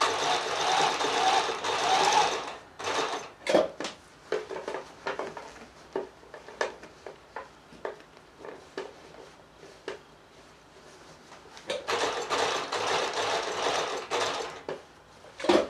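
A sewing machine stitches along a jeans zip, following the previous stitch line in bursts of close mechanical whirring broken by short pauses and clicks. The sound is near and steady, with no talking.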